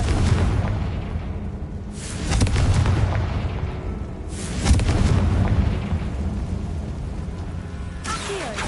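Spell blasts from the Bombarda and Confringo charms in Hogwarts Legacy burst out as a few separate deep booming explosions, loud and spaced seconds apart, each trailing off into a rumbling decay.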